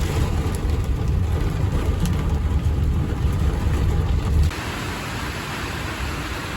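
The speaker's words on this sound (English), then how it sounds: "Ain't a whole lot we can do since it won't stop raining." Heavy rainstorm with wind during a crazy storm on a hay field, heard from inside a vehicle as a dense, loud, continuous roar of rain and gusts that drops slightly in intensity near the end.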